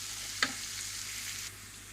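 Courgettes lightly browned in oil in a pan as spices are tossed in, giving a soft, steady sizzle with one brief clink early on and no talking.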